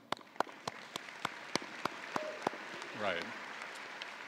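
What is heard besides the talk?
audience clapping at university convocation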